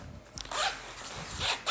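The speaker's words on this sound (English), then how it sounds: "As you can see, they're really easy to zip back up." Zipper pulls on the side water bottle pocket of a 5.11 Rush 24 tactical backpack, several quick close rasps in a row, up-close and fairly quiet with no talking.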